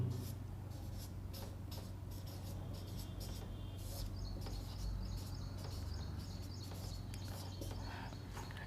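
Chalk or pen writes during a history lecture on India's constitutional development, giving quiet, rapid scratching strokes in short bursts over a low steady room hum.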